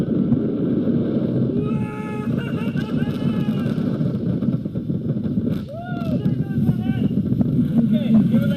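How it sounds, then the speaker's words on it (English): An electric boat motor hums steadily at close range with wind and water noise, while voices talk intermittently over it. "his first run in his cool new boat"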